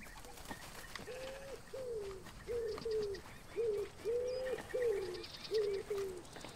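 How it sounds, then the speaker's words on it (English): A pigeon coos in the video game Alba: a Wildlife Adventure, a run of seven soft, regular two-part coos spaced about a second apart over quiet outdoor ambience. "Hello, pigeon."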